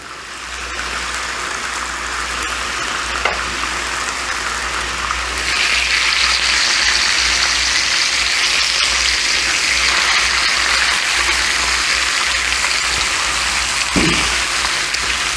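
Sausages for a full English breakfast sizzle steadily in a hot pan, a dense, continuous crackle that grows louder partway through, heard close with no talking.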